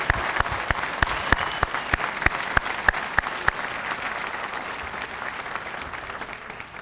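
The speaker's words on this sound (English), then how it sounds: "May we have a big round of applause for our 2009 evaluators." An awards-ceremony audience gives a round of applause for the year's evaluators. Sharp, distinct individual claps stand out over a softer bed of clapping, then thin out and fade toward the end.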